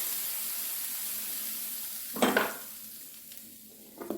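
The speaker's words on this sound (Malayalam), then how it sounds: "അപ്പം പാൻ ചൂടായിട്ടുണ്ട് നമുക്കിതിൻ്റെ കുറച്ച് വെള്ളം തളിക്കാം" Water is sprinkled onto a hot appam pan before making dosa, setting off a short, sharp hiss that fades quickly, then a smaller spatter near the end over a quiet background.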